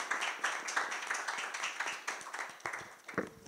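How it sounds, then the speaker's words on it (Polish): Light, sparse clapping from a small audience at a youth political debate on education, quiet and distant with individual claps audible. "Wielkie brawa."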